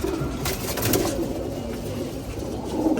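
Pigeons coo softly as they settle into their loft, a few low burbling calls over a busy background of rustling and flutter, with no talking.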